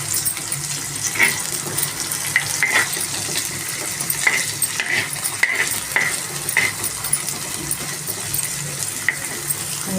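Onions frying in oil for veg egg rolls give a steady sizzle, broken by clinking taps of a utensil as they are stirred in the pan, up close with no talking.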